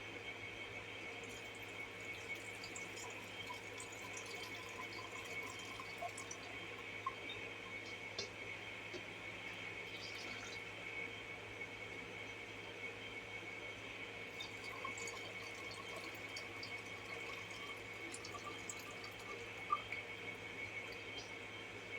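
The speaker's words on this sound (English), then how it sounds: "You just want to make sure that you strain it real good." Homemade pine tip syrup strained into half-gallon jars gives a steady, soft liquid trickle and pour at close range, continuous and even throughout with no voices.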